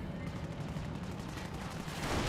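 Mortar fire and explosions in the Company of Heroes video game, a dense burst of crackling blasts and booms that thickens toward the end of the short stretch.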